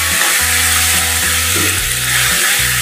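Chopped tomatoes cook with onions in a hot pan, giving a loud, continuous sizzle and hiss with faint scraping from stirring.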